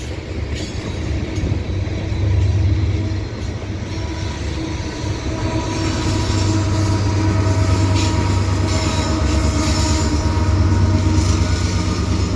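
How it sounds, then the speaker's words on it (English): A long CP freight train of stacked containers, led by an AC4400CWM locomotive, rolls steadily past close by at Dorval, a continuous low rumble with rattling wagons and faint clanking, steady and loud throughout. "So that's an AC 4400 CWM, and this part of the train is a stacked train."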